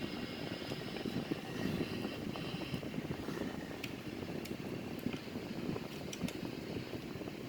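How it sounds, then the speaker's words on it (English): A Sukhoi-30M2 jet rolls along runway 14 at Zurich after landing, its engines giving a steady, loud broadband roar with a faint whine on top, unbroken throughout and with no voices. "So this is a Sukhoi-30M2 runway 14 in Switzerland."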